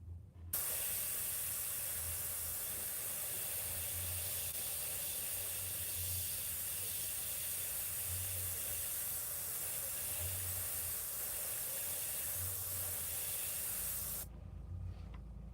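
An airbrush spraying in a steady, close, continuous hiss, starting abruptly and cutting off near the end, with a faint pulsing low hum beneath.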